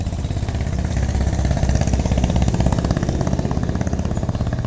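Motors of a low-budget 998 drone running in flight give a loud, steady mechanical buzz with a rapid pulsing flutter, close by and continuous, with no talking.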